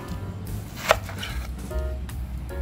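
A knife chopping vegetables on a cutting board in a home kitchen while preparing steamed fish, one sharp close chop standing out against quiet background noise.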